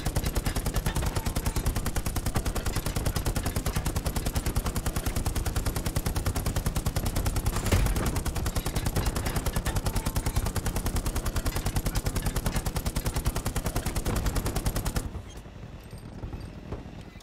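Sustained rapid machine-gun fire in the World War II video game Hell Let Loose, a dense unbroken rattle of automatic shots from a tank, loud and close, cutting off abruptly near the end.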